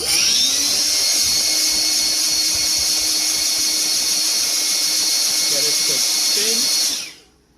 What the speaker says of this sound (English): I took this little blower here. I wanna blow into this motor, into this fan.